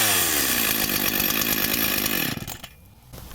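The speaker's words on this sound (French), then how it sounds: "On bloque notre tronçonneuse et on vient tirer sur le lanceur." A flooded chainsaw is pull-started and roars into a loud, raspy running drone for a couple of seconds. It then drops off sharply into a quieter, sputtering idle.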